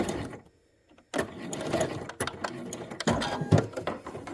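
Sewing machine stitching bias tape binding, short bursts of motor whir with a brief silent pause near the start, then continuous fast stitching, close and moderately loud.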